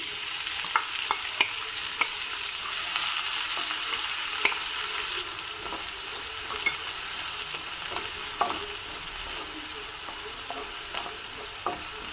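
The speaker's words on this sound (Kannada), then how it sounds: "ಈಗ ಸಣ್ಣದಾಗಿ ಹೆಚ್ಚಿರೋ ಒಂದು ಈರುಳ್ಳಿಯನ್ನು ಹಾಕ್ತಾ ಇದ್ದೀನಿ" Finely chopped onion frying in a pan, a steady moderate sizzle broken by sharp clicks of a spoon stirring against the metal, no one talking.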